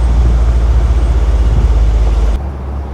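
A 1998 Land Rover Defender 110 Hi-Cap with a 300Tdi diesel and five-speed gearbox cruises with a loud, steady low engine drone and road rumble, which eases abruptly near the end as the revs drop.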